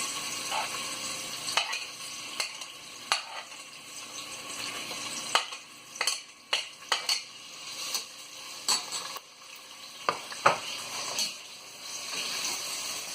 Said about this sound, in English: Oil is preheating here. I'm gonna fry this onion on medium heat.